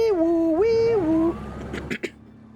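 An ambulance siren in the Marvel's Spider-Man video game wails up and down in a loud, close tone for over a second, then cuts out, followed by a couple of sharp impact thumps.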